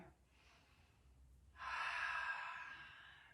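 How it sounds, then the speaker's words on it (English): A slow, deep breath drawn in during a gentle beginner's yoga flow, a soft faint hiss swelling to a sustained, fairly loud breathy rush for nearly two seconds after a quiet start. "Big deep breath."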